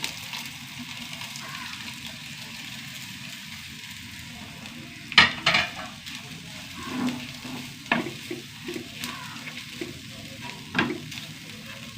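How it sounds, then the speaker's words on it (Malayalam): Steady frying sizzle of coconut roasting in oil, with occasional scraping and clinks of a spoon stirring in a pan, close and moderately loud. "നന്നായി വറുത്തെടുക്കണം"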